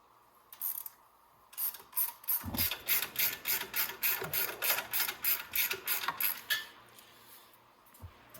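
A hand ratchet loosens a bolt on the gas tank of a Venom 110cc Mini Madix ATV, ticking out a steady run of about a dozen close, crisp clicks in a regular rhythm, with a few scattered clicks before and after.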